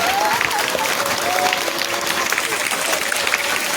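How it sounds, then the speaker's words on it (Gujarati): Loud, continuous applause from a large crowd at a school Independence Day celebration, with dense clapping sustained evenly throughout. "કરશનભાઈ હળવદિયાનો પણ ખૂબ ખૂબ આભાર માનીએ અને એને જોરદાર તાળીઓથી બધાવીએ."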